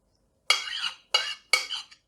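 A spoon works pieces of fish into an egg mixture in a bowl for a fish appetizer, making three short, close scraping and clinking strokes separated by silence.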